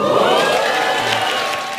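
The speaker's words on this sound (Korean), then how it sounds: "박수는 다 듣고 주세요" A studio audience applauds and cheers on a Korean talk show, a brief burst of clapping that starts loud and fades slightly toward the end, with no speech.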